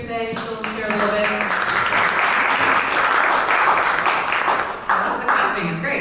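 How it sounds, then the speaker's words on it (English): An audience claps in a dense, steady burst of applause for several seconds, with a voice speaking briefly over the start and end. "The clapping is great"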